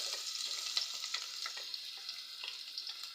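Onions sizzle steadily in hot fat in a pan, a continuous bright crackle with faint stirring scrapes throughout, quiet and close, no talking.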